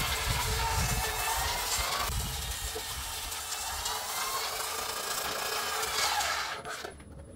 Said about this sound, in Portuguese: Vou ligar aqui o motor, deixar em baixa rotação.